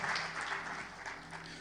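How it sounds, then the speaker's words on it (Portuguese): A church congregation applauds, a dense wash of many hands clapping together, sustained and fairly loud throughout the short stretch. "Você pode aplaudir ao Senhor bem forte?"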